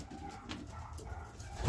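Roller pigeons coo softly in a breeding loft, low murmuring calls over a faint room hum, with one or two brief rustles.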